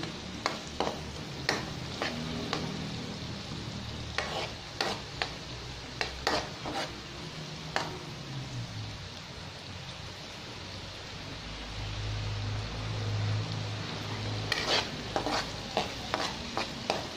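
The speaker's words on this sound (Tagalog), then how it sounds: "Halu-haluin lang po muna natin siya. Hanggang medyo maging brown." Tofu frying in a pan with onion while being stirred, a close, steady sizzle broken by repeated scraping strokes of the spoon, with no talk.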